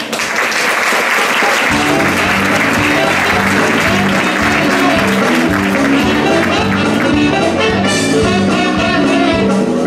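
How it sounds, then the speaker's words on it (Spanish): Applause breaks out from a comedy monologue audience, rising sharply into a loud, sustained wash of clapping, with a brief spoken greeting and musical tones underneath. "Un fuerte aplauso para él."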